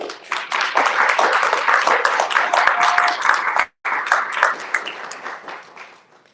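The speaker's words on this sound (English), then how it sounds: "give them a round of applause right now" A live speaker-series audience breaks into dense, sustained applause that fills the room, cuts off abruptly for a split second, then resumes and slowly thins out.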